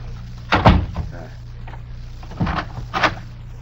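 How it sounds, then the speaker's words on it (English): Wooden door thuds and a latch clunk in an old radio drama set at a manor during a thunderstorm, one firm close followed by softer knocks and a couple of lighter clicks, all fairly close. "I will close the door."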